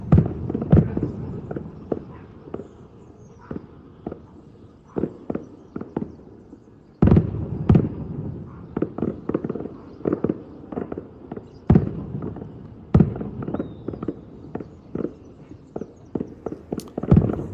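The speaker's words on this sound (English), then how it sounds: "Fireworks?" Fourth of July fireworks heard as a string of sharp, dry pops and bangs, some single and some in quick clusters, irregularly spaced over a quiet background, fairly close and loud.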